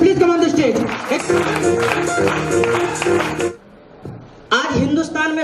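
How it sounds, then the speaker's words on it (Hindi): Audience applause welcoming a speaker onto the stage at an event, dense continuous clapping lasting a few seconds, then a brief pause and a loud return, with voices heard amid it. "एक जोरदार तालियों से स्वागत करते हैं।"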